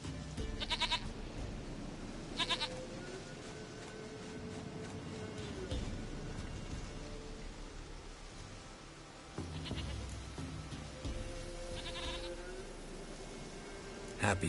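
A goat bleats a few times in The Witcher 3 video game, short wavering calls over a low steady ambient bed with faint insect buzz, at moderate distance and fairly quiet.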